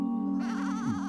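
A single cartoon sheep bleats up close, a wavering, nasal cry that holds steady and then dips in pitch at the end.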